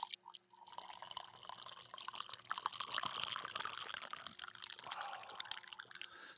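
A morning drink is poured in a quiet room, a soft liquid trickle with small drips and splashes running for several seconds after a brief pause, close and faint, with no voices.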